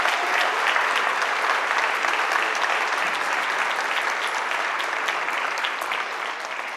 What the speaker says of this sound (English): Could you give them all a round of applause